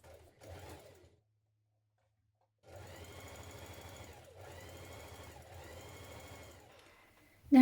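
A home sewing machine stitching a blouse yoke to the back piece, a short burst, a pause, then a longer steady run broken by brief stops, closely heard.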